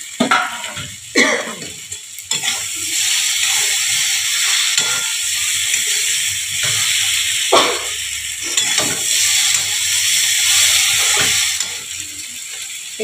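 Small mourala fish hit hot oil in a home kitchen pan and fry with a steady, loud sizzle and hiss, punctuated by sharp crackles and clatters.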